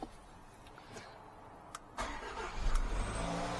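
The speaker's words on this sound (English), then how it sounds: "Now we're gonna start the engine" A 2016-2024 Jaguar XE engine starting in a workshop during a rear brake service: a quiet lead-in, then the engine cranks and catches, settling into a steady, moderately loud idle.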